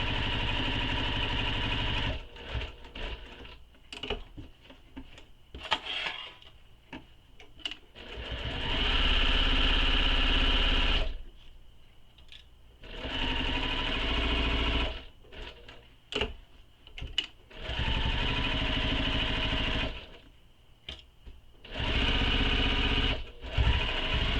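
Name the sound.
sewing machine stitching and backstitching a bag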